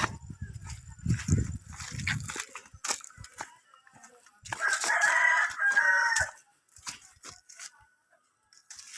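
A rooster crows once nearby, loud and drawn out, amid scattered rustling and handling noises with a few faint voices.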